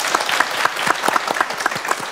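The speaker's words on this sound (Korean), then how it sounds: "네, 박수 보내드릴게요." A studio audience claps steadily for about two seconds, a dense, even wash of applause with rhythmic peaks and no speech.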